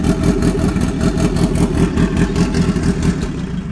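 A Toyota Vios with a 1NZ engine idles steadily and fairly loudly, its low, even rumble holding without breaks or revving, with no voices over it.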